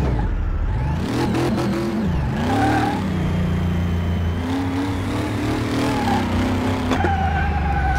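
A 1932 Ford in the Car Mechanic Simulator 2018 game accelerates hard with wheel spin: a loud, continuous engine roar rising and dipping in pitch as revs climb, shift and climb again, with a brief tyre squeal.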